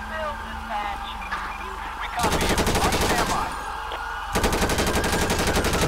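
Gunfire in GTA 5 with the LSPDFR police mod: two bursts of rapid machine-gun fire, each lasting about two seconds, loud and dense, while a voice talks over radio-like game audio.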